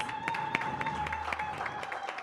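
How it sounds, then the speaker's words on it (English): Light clapping from a modest audience at a formal signing ceremony for infrastructure cooperation agreements, a short, steady patter of hands with no talk. "Let's give them a round of applause."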